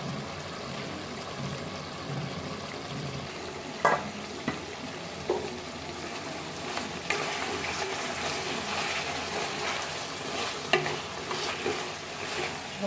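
Duck meat frying with spices in a pan, stirred over a steady, close, hissing sizzle with occasional scraping clacks of the spoon throughout.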